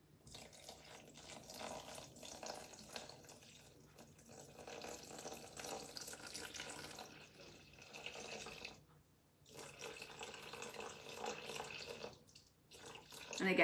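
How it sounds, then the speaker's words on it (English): Water streams into a bowl set on a kitchen scale while bread dough is being made, a soft continuous splashing pour with brief pauses, close by and fairly quiet. "now I'm gonna add my water"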